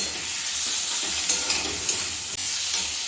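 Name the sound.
potol potato curry being sautéed and stirred in pan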